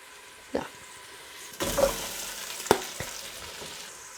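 Potatoes and vegetables, including ginger, fry in a pot for a vegan pumpkin stew, with a soft steady sizzle broken by a few sharp clatters and scraping stirs, close and with no one talking.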